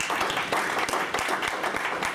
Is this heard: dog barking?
no